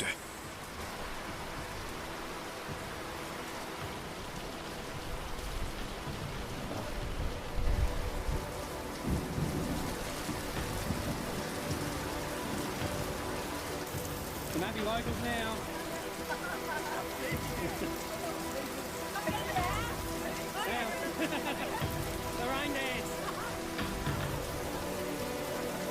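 Heavy rain pours steadily with rolling rumbles of thunder, and a voice talks over the storm throughout.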